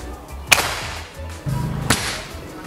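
A PCP air rifle fires with a sharp, close crack, followed about a second and a half later by a second sharp snap, with quiet pauses and a low mechanical rumble in between.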